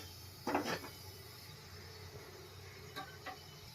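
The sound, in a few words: pressure cooker being taken and placed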